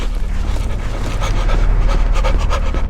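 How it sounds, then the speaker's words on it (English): Rapid, raspy panting breaths of ghostly female creatures in the video game Cry of Fear repeat closely and steadily, a heavy rhythmic breathing sound up close. "These creatures that look like phantomatic ladies who go through walls with their damn heavy breathing"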